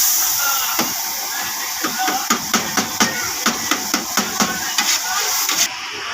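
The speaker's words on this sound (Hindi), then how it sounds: "चिकन फ्राई हो रहा है।" Chicken fries for biryani in a home pot, giving off a loud, steady sizzle and hiss, with a rapid series of light metallic taps from stirring against the pot through the middle.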